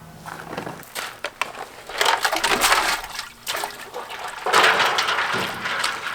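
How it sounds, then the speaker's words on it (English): A tray of ice cubes dumped into a water-filled stock tank used as a DIY cold plunge, with loud crunching, clattering splashes in several bursts at close range. "I will grab the tray of ice cubes and I'll dump those in"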